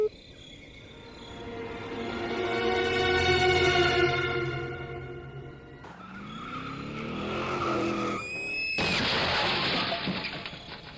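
A car's tires screech in a long, loud skid that swells and fades, followed by a sharp, bright crash burst at the end, set as a horror-story effect with no talk.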